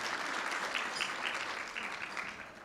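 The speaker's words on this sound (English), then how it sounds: "a round of applause for our title sponsor" A luncheon audience applauds a sponsor, a dense wash of many hands clapping at moderate distance, sustained and fairly even before tapering slightly at the end.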